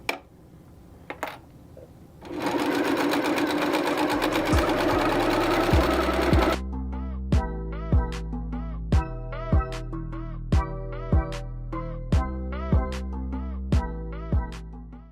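Sewing machine stitching quilted placemat strips a quarter inch from the edge, first a steady continuous whirring run, then a series of short, evenly spaced stitching bursts with clicks between them, close and clear.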